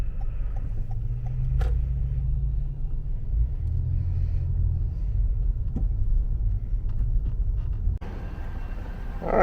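Low, steady engine rumble and road noise from inside a car rolling slowly into a Buc-ee's gas station, with faint clicks and a brief shift in sound near the end.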